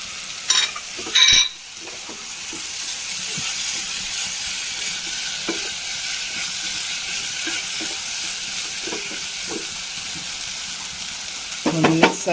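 Fried chicken sizzles and crackles steadily in a hot pan, a continuous hiss with scattered pops and a few clanks of a utensil.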